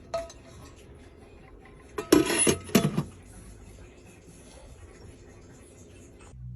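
A metal steamer lid clatters down onto a pot for cooking traditional Filipino puto with cheese: a short burst of clinks and rattles, fairly loud and close, in an otherwise quiet kitchen.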